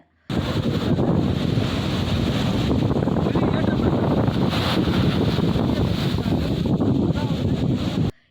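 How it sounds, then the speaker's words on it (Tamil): Rough sea off Mamallapuram beach on the Tamil Nadu coast, with waves about ten feet high surging onto the shore, a loud, unbroken roar of churning surf and gusting wind close to the microphone. "மாமல்லபுரம் கடற்கரை பகுதிகளில் அலைகள் சுமார் 10 அடி உயரத்திற்கு எழும்பி கரையை நோக்கி வேகமாக வந்தன"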